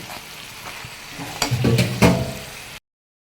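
Pechay and chili stir-fried in a pan, a steady sizzle with a few clattering stirs and scrapes building in the middle, close and fairly loud, then cutting off abruptly.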